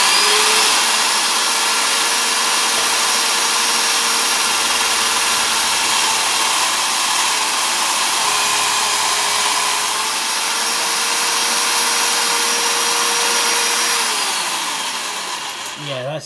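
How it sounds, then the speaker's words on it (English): A steady, loud mechanical whine of a Goodell-Pratt belt-driven drill press running continuously at slowed speed while drilling, with a faint drop in pitch near the end as it winds down. "Alright, I've slowed the drill speed down."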